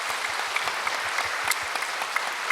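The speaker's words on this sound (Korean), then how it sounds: "힘차게 격려 박수." A church congregation bursts into vigorous applause after a Sunday sermon prayer, dense, steady clapping from many hands with a few sharper claps standing out, filling the whole moment without any talking.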